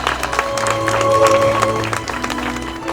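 Wedding guests keep clapping in a continuous, fairly loud wash of applause, with a held musical tone and faint voices mixed in.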